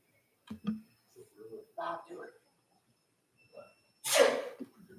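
A single loud sneeze bursts out near the end during a council meeting, preceded by a few quiet, muffled voice fragments and pauses.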